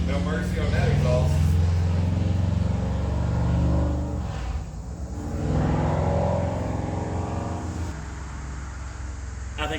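Close, loud rumbling of a drag race car engine revving through its exhaust, steady and heavy for several seconds, easing off around the midpoint before picking back up, with a voice speaking over it.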